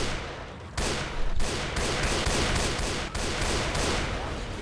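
Dense gunfire from the Left 4 Doom mod of Left 4 Dead: rapid, overlapping bursts and shots that run almost without a break, loud and close, with one short lull.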